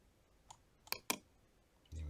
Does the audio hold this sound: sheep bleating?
no